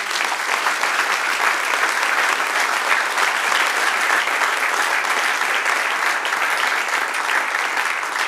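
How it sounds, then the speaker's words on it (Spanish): Congregation at a church sermon applauding, a dense, even wash of clapping that stays loud and steady throughout without a break. "Dale un aplauso al Señor"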